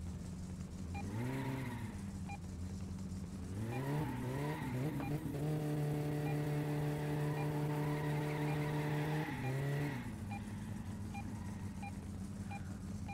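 Car in a video game driving on a flat tire, with a steady engine drone that repeatedly rises and swoops in pitch as tires squeal and skid, loud and continuous with no talking.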